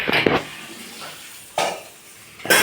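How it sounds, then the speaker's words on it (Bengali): Metal cooking pot lids lifted off in a home kitchen, giving a few sharp clanks and scrapes at the start, the middle and the end, close and fairly loud with quiet gaps between. "খুলে নিই ঢাকনাগুলো"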